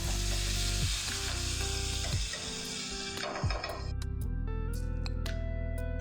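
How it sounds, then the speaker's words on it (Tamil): Curry leaves dropped into hot oil for a tempering, a loud, continuous close sizzle and crackle alongside a steady tonal hum with a few sharp clicks, no talking. "இந்த சூடாக இருக்கிற எண்ணெயிலேயே நான் கொஞ்சம் கருவேப்பிலை நல்லா இப்படி கொஞ்சம் கையிலேயே இப்படி பண்ணிவிட்டு அதில் போட்டிங்கன்னா"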